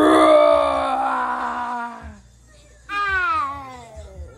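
A person gives a long, drawn-out roaring wail imitating a lion, then a second shorter howl after a pause.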